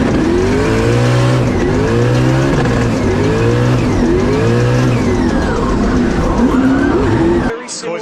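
Nissan 180SX drift car at a track drift competition, engine revving hard with rising and falling pitch sweeps, loud and close, continuous for about seven seconds before cutting off abruptly.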